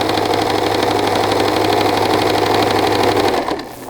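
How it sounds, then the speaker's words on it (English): A sewing machine stitches a side seam on a garment, a fast, steady mechanical whirring with a rapid needle rhythm that slows and stops near the end. "I'm just sewing up this side seam"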